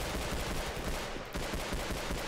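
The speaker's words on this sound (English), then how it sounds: "I gotta, like, follow the gunshots." Dense, continuous gunfire in the online shooter Double Action Boogaloo, loud rapid shots blending into a sustained barrage with a brief dip partway through.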